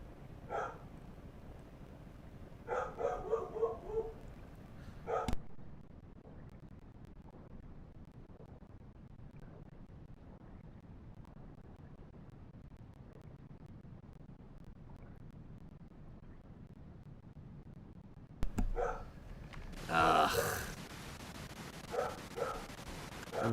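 A dog barking and whimpering from another room, faint and distant, with short bursts near the start and again toward the end over low background hiss.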